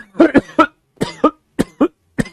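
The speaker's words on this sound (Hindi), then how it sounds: "खांसी बैठ रही" Someone coughs repeatedly at close range during a maths lesson, several harsh bursts in clusters of two and three with short gaps between them.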